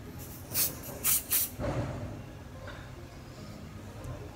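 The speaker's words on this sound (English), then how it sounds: "this is a body spray" Three short hissing bursts of aerosol spray, followed by a softer fading hiss against quiet background noise.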